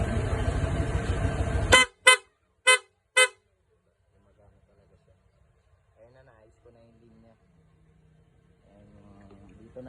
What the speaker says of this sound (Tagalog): Yan naman yung sa busina, makikita nyo.